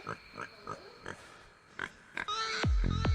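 A pig oinks in short grunts, several spaced snorts repeating at an irregular pace, fairly close. A louder, sharper squeal-like burst near the end leads into a sustained low sound.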